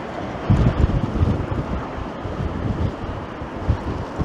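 Strong wind buffets the microphone in a steady, rumbling roar with gusts that rise and fall throughout, and nobody speaks.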